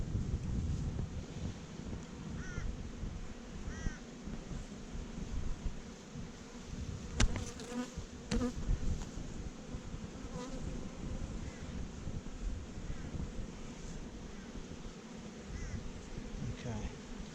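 Honeybees swarm around a hive cut out of a log outdoors, a dense continuous buzz close to the microphone with wind rumble and a few sharp knocks, and a voice speaks briefly.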